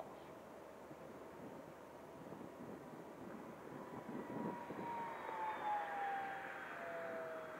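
An E-Flite Spitfire and Mustang, RC model planes at full throttle, give a distant, steady engine drone with a high whine that slowly bends in pitch as they pass, amid wind rumble and no clear talk.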